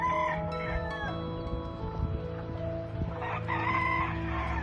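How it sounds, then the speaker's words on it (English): Chickens in a coop during a winter snowstorm in New Jersey give close, continuous clucking and cackling, with a rooster crowing loudly near the start and again toward the end. "so this is the chickens in here."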